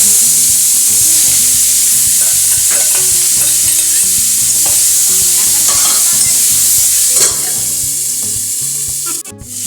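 Whole spices (panch phoron) sizzle and fry in a pan at a steady, loud hiss while a utensil stirs and scrapes rhythmically throughout, with the sizzle briefly flaring near the end.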